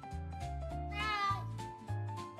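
A cartoon cat meows several times in a children's story, with drawn-out, wavering cries that rise and fall, fairly close and clear, without any talking over it.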